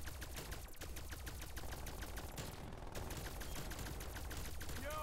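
Rapid automatic gunfire from a weapon in a zombie shooter game, a dense, steady stream of shots lasting throughout, with players talking over it.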